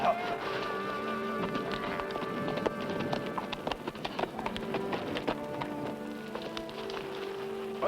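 A restless horse in a Western setting, close hoof clops and stamping with sharp irregular knocks over a busy background of buzzing and shuffling, fairly faint overall.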